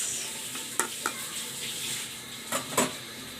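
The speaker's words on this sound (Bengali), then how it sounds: "এখন এটা সেদ্ধ হবে, কিছুক্ষণ সময় রান্না করব।" Tengra fish curry with mixed vegetables cooks in a pan, giving a continuous close sizzle and bubble broken by a few louder clinks and scrapes of stirring.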